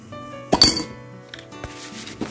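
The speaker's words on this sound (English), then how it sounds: "Both the coins fell into the glass." Coins dropping into a glass after a card is struck away in a science demonstration: a sharp strike, then bright clinks of metal on glass, with fainter rattling clinks trailing off over the next second and a half.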